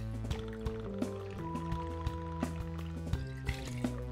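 Earl Grey tea syrup, Nigori sake and red pear vodka are poured one after another for a cocktail, with liquid trickling and splashing, light clinks and taps between pours, close up and without talk.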